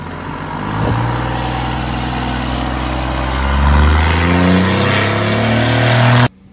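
Boosted cars launch through sticky rodent trap glue on a road, engines revving hard and loud with rising pitch for several seconds before cutting off abruptly.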